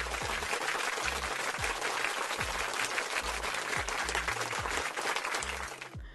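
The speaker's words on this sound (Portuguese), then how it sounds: "Palmas." Steady applause and clapping from a small group continues throughout, dense and fairly close, with a rhythmic low-pitched bass pattern running underneath and a brief taper at the end.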